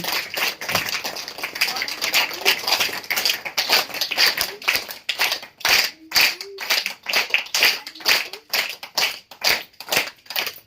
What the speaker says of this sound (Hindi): तो जोरदार ताली से और तहे दिल से स्पेशल तालियों के साथ हम भाई जी का स्वागत करेंगे